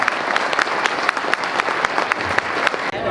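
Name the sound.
audience applause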